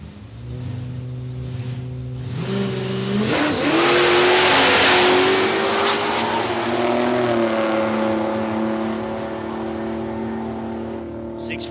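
A Commodore Ute launches down the drag strip at Palmyra Raceway in a drag racing run, its engine revving hard and loud as it accelerates away from near to far, with the roar slowly fading over the pass.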